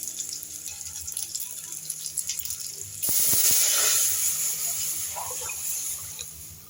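A liquid mixture poured into hot fried onion tempering for a basic saru, hitting with a sudden loud sizzling rush that stays steady and slowly fades, after a quieter kitchen background.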